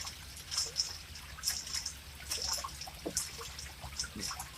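A spinning water toy in Japan sends out a thin, continuous trickle with small splashy drips, heard close and steady without any voices.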